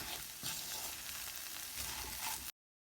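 Banana and moong dal curry is mixed with dry coconut powder, coriander leaves and ghee in a pan: a dense close sizzle with stirring scrapes for about two and a half seconds, then abrupt silence.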